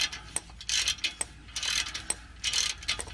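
A hand ratchet chasing threads on a car exhaust flange: a series of close, crisp clicking strokes in irregular bursts, with short pauses between pulls.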